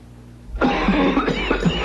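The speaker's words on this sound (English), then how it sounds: "with this nasty cough plus congestion" A single harsh, rough cough bursts out close by, trailing into a raspy throat-clearing wheeze.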